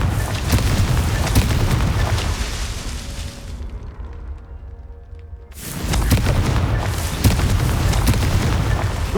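Confringo fire spell cast in Hogwarts Legacy, a loud booming blast that fills the first few seconds, cuts out briefly, then returns as a sustained rumbling explosion.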